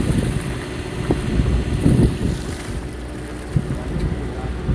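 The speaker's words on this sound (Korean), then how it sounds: "바람이 시원하게 잘 불어서" Wind buffets a fishing boat at sea off Yeosu on a hairtail fishing trip, making a constant loud rushing roar with gusty microphone rumble and faint knocks on board.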